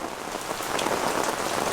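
Steady rain falls continuously outdoors, an even close hiss of drops hitting surfaces with no voices and no thunder.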